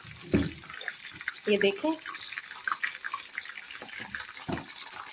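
Hyderabadi crispy fish frying in hot oil in a pan and being flipped, giving a steady close sizzle with brief splashy bursts as the pieces turn, under a voice.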